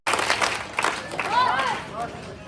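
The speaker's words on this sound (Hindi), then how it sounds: "उस ताली का इस्तेमाल" An audience at a madrasa teacher-training gathering claps in welcome, short bursts of hand claps amid crowd noise and murmuring voices, fairly loud and close.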